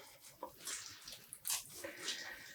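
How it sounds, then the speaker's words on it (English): Yarn dunked up and down in water while being dyed by hand at home, producing faint sloshing and dripping splashes in short irregular bursts, close by and quiet. "Dunk it up and down in water."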